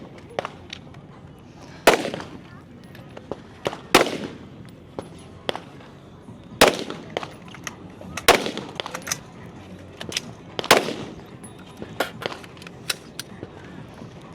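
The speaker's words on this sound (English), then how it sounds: "12 shots with your rifle, then 12 shots with the pistol. The rifle is always going to be from the barricade." Rifle shots fired from a barricade during a shooting match at a national competition, a series of sharp, loud cracks spaced a second or two apart, with fainter distant shots and a soft voice between them.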